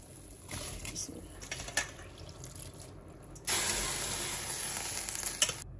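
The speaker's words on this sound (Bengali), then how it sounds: "আমার পানিটা ফুটে গেছে, আমি এখন চালগুলা দিব।" Boiling water in a pot for basmati rice polao, a steady bubbling hiss that swells louder partway through as the rice goes in, continuing as a dense watery rush to the end.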